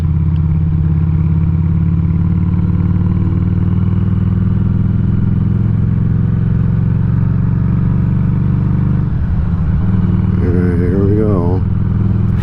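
A Harley-Davidson Street 500 motorcycle cruises in fifth gear at about 2600 RPM, its engine a loud, steady low drone with wind rush throughout, and someone speaks briefly near the end.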